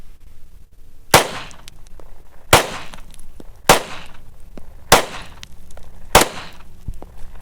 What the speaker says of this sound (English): All right, so I did get all 5 shots.